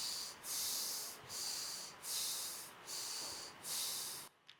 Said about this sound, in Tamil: ஒரு 3 முறை மூச்சை உள்ளெழுத்து மூச்சை வெளியே விடுங்க.